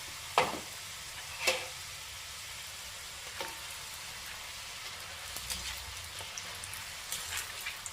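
Diamond cuts, a flour snack, fry a few at a time in oil, a faint, steady sizzle with a handful of sharper pops scattered through it.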